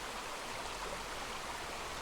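Burbage Brook in the Peak District flows beside a walking path, giving a steady, even rush of running water, continuous and fairly faint with no other sounds on top.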